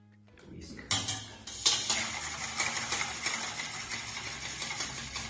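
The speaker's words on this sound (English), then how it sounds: "I whipped my cream." Cream is whisked in a bowl for a cake roll, with quick, continuous metallic scraping and tapping of the whisk against the bowl after a few sharper clinks, close and fairly quiet.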